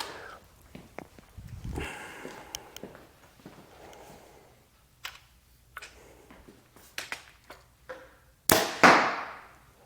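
A Mathews LIFT compound bow shot at a target range around 20–25 yards, heard as a sharp, loud release thump with a quick fading buzz near the end, following quieter movement and small clicks.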